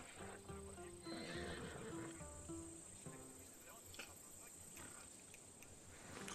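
A horse in Assassin's Creed Odyssey neighs and whinnies with clip-clopping hooves, layered over a steady chirp of crickets and insects in the background.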